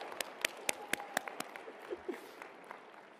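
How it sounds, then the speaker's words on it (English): Audience at the 2023 Michigan BPA opening session gives a round of applause: scattered, distinct claps for about a second and a half, then fading into room murmur and a few voices. "Let's give each other a round of applause to celebrate this incredible work."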